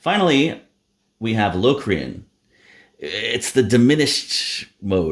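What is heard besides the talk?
None of the usual background noises is heard.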